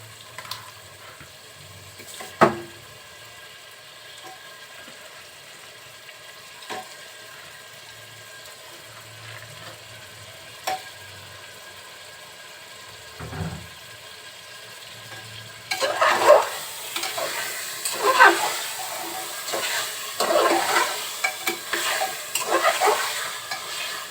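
Beef pieces fry with spices in a pan, heard as a quiet stretch with faint knocks before a loud, close sizzle breaks out. Brisk stirring scrapes continue over it for the final third.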